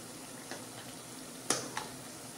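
Shakar pare frying in oil over a medium gas flame: a faint, steady hiss of sizzling with a couple of sharp pops and crackles near the middle.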